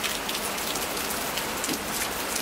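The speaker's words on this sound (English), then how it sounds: "Lots of rain, but it's not too bad." Heavy rain pours during a hurricane, a dense, steady hiss of drops hammering surfaces close by without letup.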